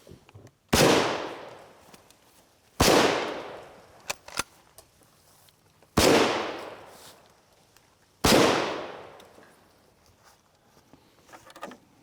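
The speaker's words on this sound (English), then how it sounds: "I'm going to shoot that jug on the left-hand side all the way at the end down." Four loud, sharp rifle shots from an 03A3 Springfield .30-06 fired at a jug outdoors, each crack followed by a long rolling echo, spaced roughly two to three seconds apart with faint clicks between.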